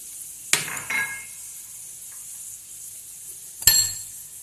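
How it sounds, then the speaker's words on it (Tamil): Onions sautéing in a pan for onion dosai, with a soft steady sizzle and a stirring utensil clinking sharply against the metal twice, a few seconds apart, close by. "வெங்காயம் வதங்கிட்டுருக்கு."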